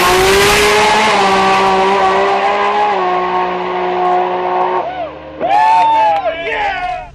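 A 2000+ horsepower drag-racing Toyota Supra makes an eighth-mile pass, a loud engine wail climbing through several gear changes before cutting off, followed by fainter revs and tire noise.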